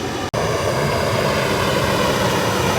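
A waste oil shop heater burner fitted with a 1.5 gallon-per-hour nozzle roars in a steady, loud, broadband rush, with one brief dropout near the start and no talking.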